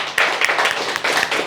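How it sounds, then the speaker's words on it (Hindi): Dense, steady applause from a crowd, rapid overlapping clapping filling the whole moment at close range, with a brief lull near the start. "तो आप लोगों के लिए ज़ोरदार तालियां"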